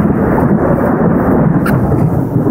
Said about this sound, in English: we just had a strike of lightning